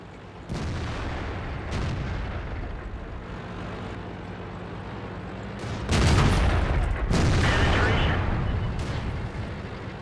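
Artillery fire in World of Tanks crashes out as heavy booming blasts, one near the start and a louder, longer rumbling barrage midway, over a constant low game drone, with a voice talking at times.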